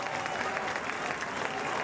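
Crowd at a high school baseball super sectional, Mt. Carmel versus Sandburg, stands applauding a departing pitcher; steady, dense clapping with some cheering, continuous and fairly distant throughout.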